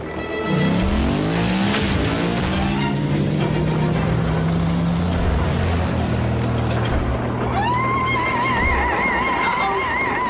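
Animated Transformers race sequence with a character turning into a motorcycle: engine whines rising and falling in pitch, revving tones and a squealing skid near the end, busy and loud, with other vehicle sounds layered in.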